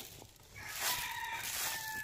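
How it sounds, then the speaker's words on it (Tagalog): A rooster crows once, faint and somewhat distant, its drawn-out call rising over quiet rural background noise. "Ay, sarap pakinggan pag may tumitalaok na manok."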